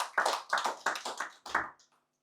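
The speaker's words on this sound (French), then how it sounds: "Acclamez pour la parole de Dieu." A church congregation claps in a quick rhythmic series of about eight sharp claps, close and fairly loud, then falls silent.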